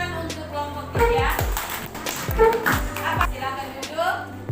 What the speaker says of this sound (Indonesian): Baik, tepuk tangan untuk kelompok 3.